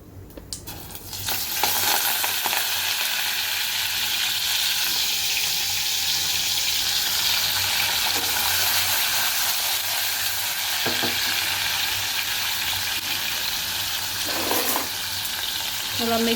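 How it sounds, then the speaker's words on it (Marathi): Chicken with cumin and turmeric fries in hot oil, a loud, steady sizzle with occasional scraping as it is stirred, continuing for a long stretch with no talk. "आणि हे चिकन टाकूया."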